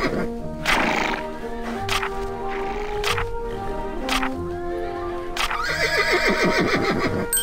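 A horse neighs and whinnies repeatedly in the video game Barbie Riding Club over a steady backdrop of game music, with sharp percussive hits punctuating, ending in a long rising whinny.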